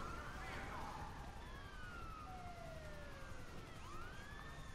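Police sirens wailing in Grand Theft Auto V during a chaotic road chase, several overlapping rising and falling tones at moderate distance over a constant engine and traffic rumble.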